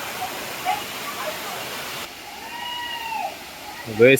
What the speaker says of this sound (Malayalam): ഇതാണ് നമ്മുടെ വെള്ളച്ചാട്ടം